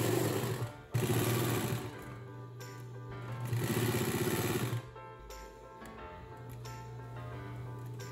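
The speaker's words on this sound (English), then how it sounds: "At this point, we started sewing pieces together." A sewing machine stitches leather seat upholstery pieces for a homebuilt airplane, running in bursts of rapid mechanical chatter with short pauses between runs, close and alone.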